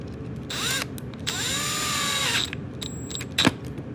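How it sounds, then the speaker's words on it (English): Tightening a nut on a Bosch 12V planer fitted with a helical cutterhead gives short bursts of whirring and ratcheting driver sound, with pauses between and a sharp click near the end, quiet and close. "make sure this nut's back in here, and we'll tighten this up"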